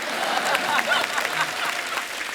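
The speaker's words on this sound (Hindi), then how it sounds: "एक बार जोरदार तालियां हो जाएं अजय देवगन साहब के लिए" A television comedy studio audience claps loudly for Ajay Devgan on The Kapil Sharma Show, a dense, steady burst of applause filling the short moment.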